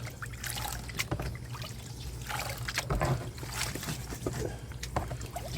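Water sloshes and trickles continuously as paydirt is swirled in a gold pan, with soft splashes and gritty churning throughout. The sound is close and moderately quiet.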